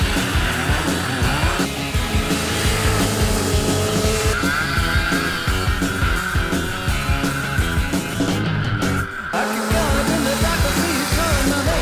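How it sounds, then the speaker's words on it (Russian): Karts racing on a snowy winter karting track, a loud continuous engine whine rising and falling with squealing, skidding tyres throughout, close and unbroken, with no speech. "Зимой мы ездили к нашим замечательным друзьям Eco-Energy Motorsport в снежный зимний картинг."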